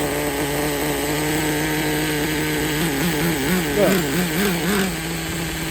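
Traxxas T-Maxx .15 nitro RC truck engine running with a steady high-pitched buzz that wavers and revs unevenly partway through; a brief word is spoken.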